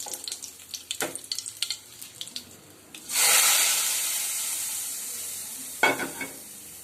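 Scattered clinks and stirring give way to a sudden loud sizzle as hot tempering with curry leaves hits a tomato curry, hissing on and fading, with a short clatter near the end.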